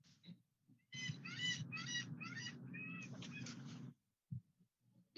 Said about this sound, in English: It was a seagull, man.